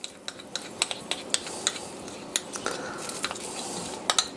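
A spoon stirs cornstarch slurry into a hot gravy for chuck roast, with irregular sharp scrapes and clinks against the pot over a soft bubbling sizzle.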